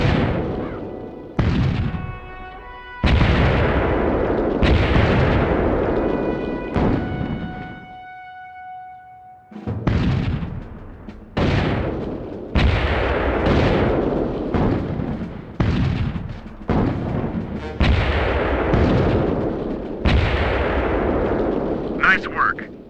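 Mortar strike explosions in the game Full Spectrum Warrior: a series of loud, booming artillery blasts in a rapid, irregular sequence, each with a sharp onset and a decaying rumble, with brief tonal game sounds between them.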